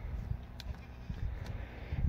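Goats that are feeling the winter cold bleat faintly in short, scattered calls over a low rumbling background.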